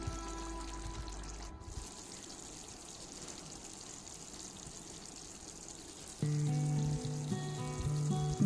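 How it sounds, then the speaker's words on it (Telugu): Chicken curry with cashews fries in a pan with a soft, steady sizzle at low level, turning louder and brighter after about six seconds as the frying picks up. "దీన్ని ఒక 5 నిమిషాలు ఫ్రై చేయనియండి."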